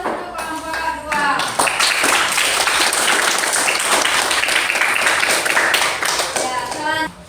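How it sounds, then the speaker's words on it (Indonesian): A classroom gives a group a round of applause after its presentation on social institutions: dense, steady clapping from many students lasting several seconds, with a voice speaking briefly before and after. "kita beri aplaus untuk kelompok 2"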